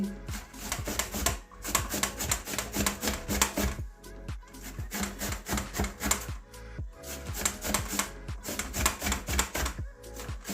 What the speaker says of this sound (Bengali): লাউ তো নরম জিনিস ঘষলে ভালো হবে কাটলে তো বড় বড় হয়ে যায় ওই জন্য এই যে এভাবে ঘষে নিচ্ছি